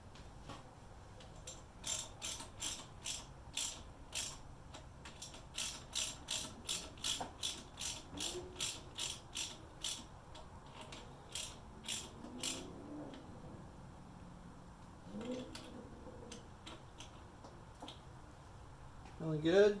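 Ratchet wrench snugging up the nuts on a pre-unit Triumph motorcycle engine during a rebuild, a steady series of crisp, close clicking bursts in quick rhythm, pausing briefly near the end before a louder clatter.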